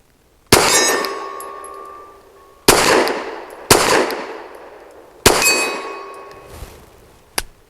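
Saricam S-19 pistol shots ringing off steel targets at 25 yards, four sharp loud cracks each followed by a bright metallic clang that decays, spaced a second or two apart, with a final fainter knock.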